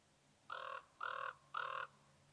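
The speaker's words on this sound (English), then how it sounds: "these ravens were deep in conversation" Ravens in snowy winter woods in Calgary's Griffith Woods give three evenly spaced, hoarse croaking calls at moderate distance over a quiet background.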